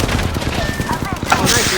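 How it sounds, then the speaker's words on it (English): Rapid bursts of video game gunfire crackle loudly over a short stretch, layered with a voice speaking. "I'm getting shot at"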